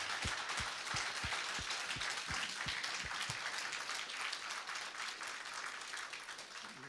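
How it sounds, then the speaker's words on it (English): Applause from the audience at a progressive political summit on Ukraine's EU membership: a broad wash of many hands clapping, with a few loud close claps early on, fading slowly toward the end. "ask you for a big applause"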